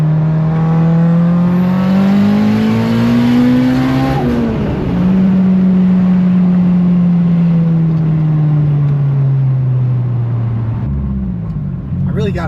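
Mitsubishi Evo 8 accelerating hard in a pull, the engine note climbing steadily, dipping at a shift and rising again, loud and close from inside the car.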